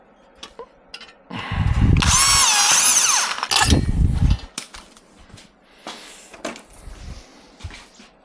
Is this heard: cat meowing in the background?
no